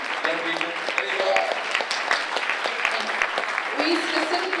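An audience at an environmental group's 50th anniversary celebration gives a round of applause, steady clapping mixed with cheering and crowd voices throughout, fairly loud and close.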